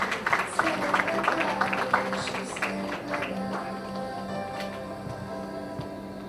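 Scattered clapping from an audience at an education hub launch event in India, a dense patter of hands that thins and fades over several seconds beneath a steady low hum and faint voices.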